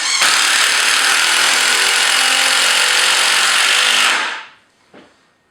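A power driver sinks screws into a wooden gothic bench: one loud, steady whirring drive lasting about four seconds, then it cuts off, leaving a faint short tail.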